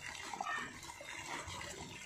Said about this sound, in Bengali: এখন বোতল ভরছি।